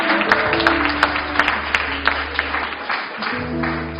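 A congregation claps during a wedding blessing service, steady, moderately loud applause with a sustained musical tone underneath throughout.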